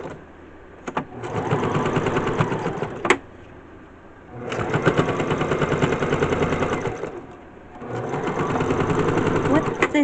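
A sewing machine stitches plush dog fabric in three close, rapid whirring runs of needle chatter separated by short pauses, with a quiet voice speaking between them.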